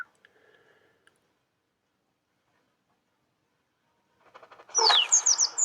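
Short bird chirps from the video game Little Kitty Big City, a quick cluster of bright tweets near the end after a few faint clicks and mostly quiet moments.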